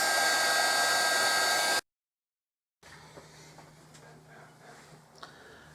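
A hair dryer blows on a watercolour card, a loud steady rush that stops abruptly. Quiet room sound with faint ticks and taps follows.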